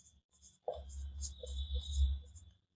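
Marker or chalk scratches across a board in a brief series of soft, close strokes over a low background rumble.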